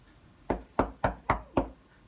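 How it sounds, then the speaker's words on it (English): Five firm knocks on a door, evenly spaced and close, each a sharp thud with a short decay in a quiet room. "There was a knock at the door."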